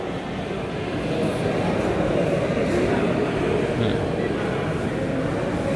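A freight train rolls past at a station with a broad, continuous rumble and rattle that holds steady throughout, with distant voices faintly audible underneath.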